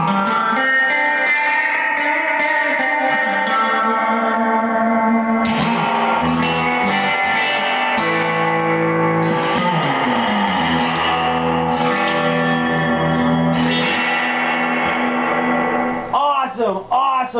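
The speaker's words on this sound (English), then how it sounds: "Awesome reverb, if you ask me." A vintage Rickenbacker TR14 guitar amp played with its reverb turned up to 10, giving sustained guitar chords a loud, washy, echoing tail that blurs one chord into the next before a brief bright string flourish at the end.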